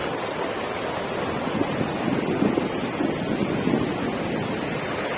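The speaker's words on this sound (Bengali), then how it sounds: "চমৎকার ঢেউ ঢেউয়ের গর্জন" Continuous roar of surf breaking on the shore at Kuakata on a sunny morning, loud and broad, with wind buffeting the microphone and small swells in the crash of waves.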